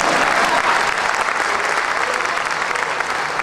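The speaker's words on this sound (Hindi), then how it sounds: "आपको ताली बजाना है" A Hindi poetry recital audience breaks into loud, dense applause that holds steady throughout, a full crowd clapping close and continuous.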